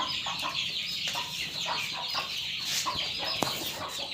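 Chickens and chicks cluck on a farm selling young black-skinned birds. Short clucks and chirps repeat in irregular bursts, close and clear, over a steady background hiss with no talk.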